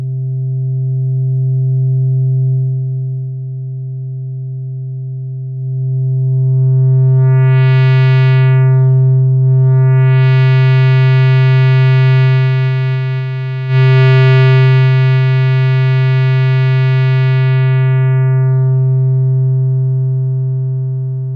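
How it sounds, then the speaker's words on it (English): A steady, buzzing Softube Modular synthesizer tone with a low drone, its bright distorted harmonics swelling and fading in several waves, loud and alone. "With the audio level knob at more than 5, we get nicely distorted sounds"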